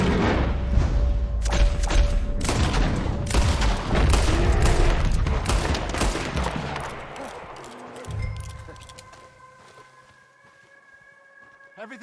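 Gunfire in a Red Dead Redemption 2 fight: dense, loud bursts of shots and booming impacts for about eight seconds, then tapering off to sparse sounds and a lingering tonal hum, with voices talking over the action.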